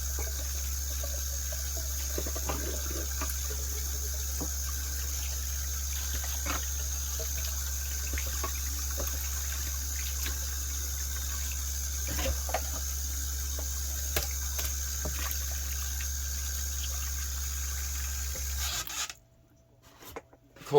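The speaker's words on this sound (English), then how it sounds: "I like to turn around and wash the ribs off." Cold tap water runs over a rack of beef ribs at a sink, a steady low-level stream with small splashes and handling clicks, a faint hum underneath, until the flow stops abruptly near the end.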